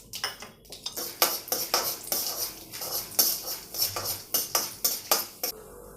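Urad dal and chana dal go into a pan of spluttering mustard seed tempering, with repeated metallic clinks and scraping of a spoon against the pot in quick bursts, close and fairly loud.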